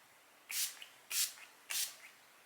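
Three quick bursts of a makeup setting spray, evenly spaced, each a short airy hiss close by, with quiet in between.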